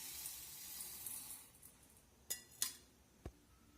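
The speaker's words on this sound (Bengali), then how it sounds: "প্রথমে ডালটাকে জল দিয়ে পরিষ্কার করে ধুয়ে নেব।" Red lentils rinsed in water in a home kitchen: a soft, steady rush of water with a few sharp splashes and clinks near the end, close and fairly quiet, no voices.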